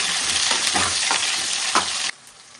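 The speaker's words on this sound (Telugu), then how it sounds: "ఆనియన్స్ ని బాగా మరిగించాలి." Onions fry in a pan with a steady, close sizzle, broken by scraping stirring strokes, before the hiss drops off abruptly near the end.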